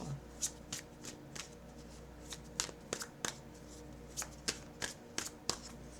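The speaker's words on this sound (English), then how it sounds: "I'm just going to pull some final message cards" A deck of oracle message cards being shuffled and pulled by hand, quick riffling bursts and soft slaps repeating close up, fairly quiet, with no talk over them.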